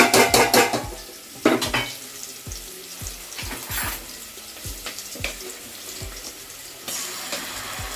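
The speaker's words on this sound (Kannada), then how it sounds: "ಚಕ್ಕೆ, ಲವಂಗ, ಏಲಕ್ಕಿ ಮತ್ತು 2 ಈರುಳ್ಳಿನ ಚೆನ್ನಾಗಿ ಆಯಿಲಲ್ಲಿ ಹಾಕ್ಕೊಂಡು ಫ್ರೈ ಮಾಡ್ತಾ ಇದ್ದಾರೆ" Cinnamon, cloves, cardamom and two onions fry in hot oil for nati chicken biryani, giving a loud, steady sizzle. Repeated clinks and scrapes of a utensil against the pan punctuate it.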